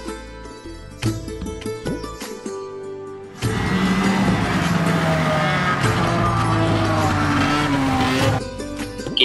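A snow scooter ride in Gulmarg, Kashmir, in winter: after some broken intermittent sounds, a loud steady engine roar sets in and holds for several seconds, close and continuous.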